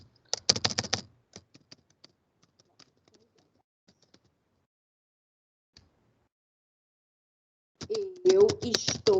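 A computer keyboard is typed on to enter a slide title, with a quick burst of clicking keys, scattered single taps through a quiet stretch, then another rapid flurry of keystrokes close by.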